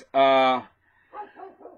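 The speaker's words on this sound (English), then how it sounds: "Looks like we have a barking dog outside." A dog outdoors gives one loud, sharp bark, followed by fainter yips and whimpering sounds a moment later.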